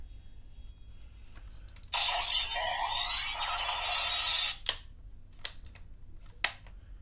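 A bootleg CSM-style Zecter toy wrist device for The Bee from Kamen Rider is twisted back, making a close ratcheting scrape for a few seconds, then several sharp plastic clicks at uneven intervals.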